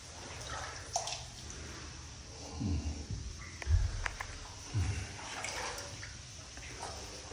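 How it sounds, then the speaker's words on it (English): Water trickles and splashes inside an old mine in Cornwall, faint and steady, with muddy footsteps and soft movement close by and a few louder sloshing steps. "I can hear water in front."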